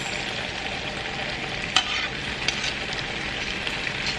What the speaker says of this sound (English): I'm just gonna add my plantain that I have already fried.